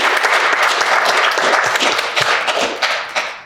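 A crowd applauds at an indoor fireside chat event, dense close clapping that swells and then tapers off toward the end.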